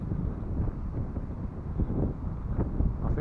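Steady wind rushes across an outdoor field while a 3D-printed trimmable glider is flown, a broad, buffeting low roar with gusts swelling and easing, close to the microphone and continuous throughout.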